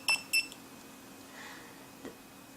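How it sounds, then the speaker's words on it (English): A SINGCALL wireless waiter pager receiver gives two short, close electronic beeps in quick succession near the start, followed by faint room noise. "receiver beeps"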